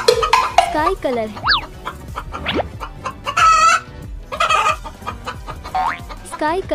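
Cartoon hen clucking and crowing in a children's animal cartoon, repeated bright stylized clucks with springy sound effects, loud and close.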